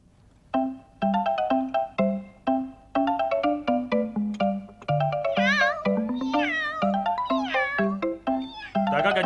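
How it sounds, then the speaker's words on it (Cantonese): A cat meows repeatedly in close, loud, rising and falling calls, one after another with short gaps, alongside a steady electronic ringtone-like melody. "我都未見過呢隻貓嘅。"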